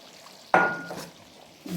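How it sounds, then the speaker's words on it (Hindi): Water poured into a cooking pot while kadhi is being made, a short splashing rush that starts abruptly, then trails off into a faint trickle. "ये पानी हम लेंगे इसमें डाल देंगे"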